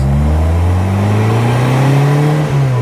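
A supercharged 1275 Bugeye Sprite engine pulls loudly and steadily, its pitch climbing smoothly, then briefly dipping as a gear changes before rising again.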